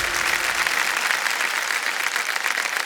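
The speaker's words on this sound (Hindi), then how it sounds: "जोरदार ताली बजाएं।" Loud, sustained applause from a television quiz show studio audience, dense clapping that continues steadily without a break, with no voices standing out.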